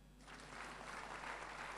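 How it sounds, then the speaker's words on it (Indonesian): Applause from a church congregation during a sermon, a faint, brief burst of clapping that rises after a quiet start and holds steady. "Tepuk tangan."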